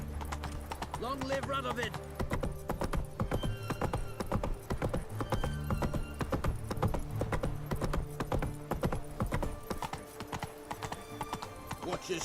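Roach, a horse in The Witcher 3, gallops with rapid steady hoofbeats through the whole stretch, while a voice shouts and other voices talk over the riding.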